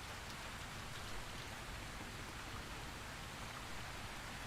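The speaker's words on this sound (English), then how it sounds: "Yo, why is it raining? Inside. There's a hole in the ship." Steady rain falls inside a ship through a hole in the Arma 3 video game, a dense, even hiss of drops at moderate volume, continuous with no voices.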